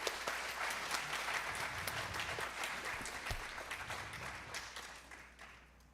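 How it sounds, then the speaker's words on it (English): An audience at a Bharatanatyam arangetram applauds the dancer's parents, a steady, dense wash of clapping from a seated crowd that holds evenly and fades slightly at the end. "So a big applaud."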